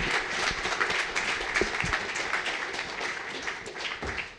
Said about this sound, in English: Can we get another round of applause for Melissa and Chris?